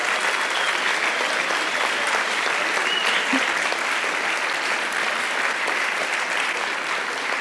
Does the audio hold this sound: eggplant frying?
no